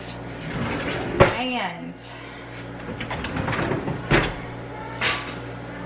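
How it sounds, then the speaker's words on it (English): Kitchen cabinet drawers slide open with sharp knocks and rattles during a decluttering session, several short bangs spaced out under a person's ongoing speech. "we're gonna open the drawers and look at those"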